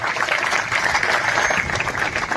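A crowd of striking clerks at a protest site in Haryana claps in a brief burst of dense, continuous applause.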